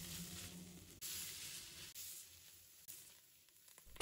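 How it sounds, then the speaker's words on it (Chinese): Carrots and wood ear mushrooms stir-fried quickly in a wok after chili bean paste, a faint steady sizzle broken by a few tossing scrapes, quiet and without voices. "快速翻炒"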